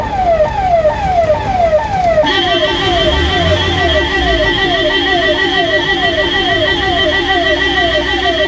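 Loud electronic siren from a vehicle loudspeaker wailing in rapid repeated sweeps, then switching to a higher, faster warble partway through, continuous and close.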